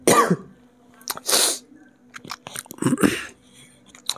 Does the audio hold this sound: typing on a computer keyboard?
no